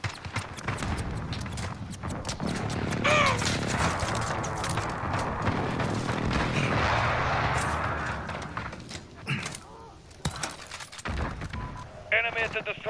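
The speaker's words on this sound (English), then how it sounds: "Enemy precision airstrike inbound." Precision airstrike on a construction-site map in Call of Duty Modern Warfare, a dense barrage of thumping blasts and crackling debris rolling on for several seconds, then scattered sharp impacts.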